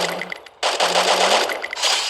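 Rapid automatic gunfire crackles in two loud bursts with a brief gap between them, from a Free Fire mobile shooter match.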